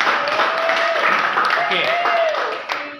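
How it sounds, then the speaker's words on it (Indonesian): A roomful of participants at a digital skills training session for small businesses in Riau claps briefly on request, a dense patter of hands under a voice saying a word, fading toward the end. "tepuk tangan dulu dong"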